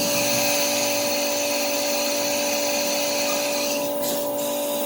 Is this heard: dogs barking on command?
no